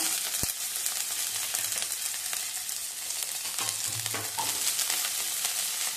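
Onion frying in a pan until golden for a Maharashtrian jeetvada curry: a continuous close sizzle with occasional scraping stir strokes and a few soft clunks, no one talking.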